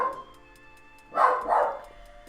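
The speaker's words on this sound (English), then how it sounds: "Pickles, what are you barking about?" A dog named Pickles lets out two quick barks in a row, heard a little way off in a quiet indoor room after a stretch of near silence.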